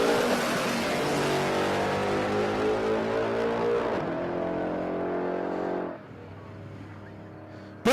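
A Mustang making a drag racing run at Palmyra Raceway, a loud, sustained engine roar at high revs that drops away after about six seconds, followed by a quieter rumble.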